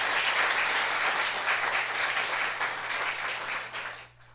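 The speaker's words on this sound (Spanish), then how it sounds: "quiero pedir un aplauso especial" An audience at a book launch gives a sustained round of applause, dense clapping that stays even before tapering off at the end, with a low steady hum underneath.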